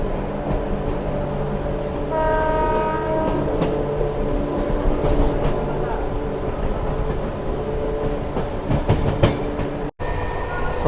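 A MEMU passenger train runs at speed between Renigunta and Kadapa in rain, its steady loud rumble of wheels and cabin noise continuous, with rhythmic clickety-clack, brief tonal squeals, and a sharp dropout near the end.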